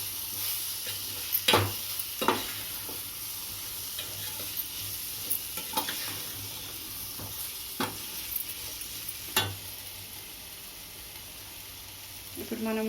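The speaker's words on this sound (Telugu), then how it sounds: "మూత తీసి కలుపుదాం." Potato curry stirred in a sizzling pan, with a spoon scraping and clanking against the metal several times at uneven intervals over a steady, quiet background sizzle.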